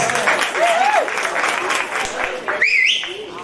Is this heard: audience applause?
yes